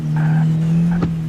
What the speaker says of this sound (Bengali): ধরুন গাড়ির আওয়াজটা দেখো